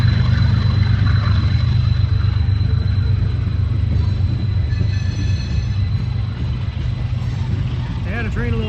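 A freight train heading east on the B&O line in flat country at Fostoria, Ohio, rumbling steadily and loud close by, with wheel squeal and rail clatter rising near the end.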